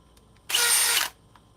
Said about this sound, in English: When you're drilling, see, it cuts out.